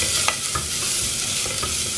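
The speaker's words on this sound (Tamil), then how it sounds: "எல்லாத்தையும் ஒன்றா போட்டு இப்போது நான் வதக்க போகிறேன்." Curry leaves, spices and vegetables are sautéed together in a pan, a steady close sizzle with brief stirring scrapes through the whole short stretch.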